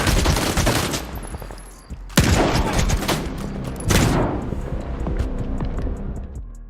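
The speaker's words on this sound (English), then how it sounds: "Sometimes the booming sound of the gun can send chills down your spine" Gunfire in the video game S.T.A.L.K.E.R. 2: loud rapid bursts of automatic fire with booming reports, three strong volleys ringing out over a few seconds with echoing tails.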